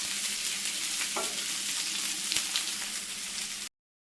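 Okra frying in a pan for a Sadya dish is stirred, a steady close sizzle with a few scraping stirs and clinks that stops abruptly near the end.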